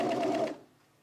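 A sewing machine stitches a dress in a half-second burst of rapid, close whirring that cuts off into quiet, followed by a faint tap.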